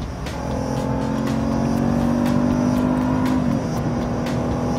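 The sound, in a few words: supercharged car engine and exhaust revving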